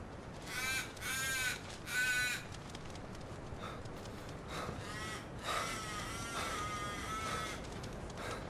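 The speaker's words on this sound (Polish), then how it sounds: "Oh no, crows." Crows in the horror game Once Alive caw harshly in repeated bursts, several loud calls in quick succession, then a more scattered, overlapping chorus of croaking caws.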